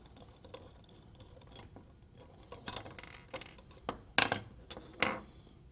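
Small metal jump rings, freshly cut from coiled wire, clink and jingle in a few bright, sharp bursts of light metallic rattling against a quiet background, with scattered softer ticks between them.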